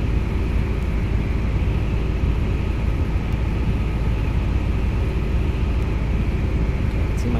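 Helicopter flying in Microsoft Flight Simulator X, a constant dense rotor and turbine roar at even volume with no voices.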